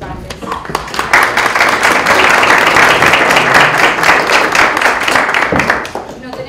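An audience claps for student research presenters at an academic research showcase. The applause is dense and steady, rising quickly and holding for several seconds before tapering off.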